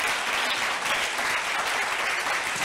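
A church congregation applauding together, a dense, steady wash of clapping that fills the space evenly from start to finish without pause.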